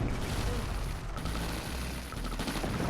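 Sustained gunfire in Command & Conquer: Tiberian Sun, a dense, continuous crackle of rapid shots and small blasts, loud and unbroken throughout, mixed with game battle noise.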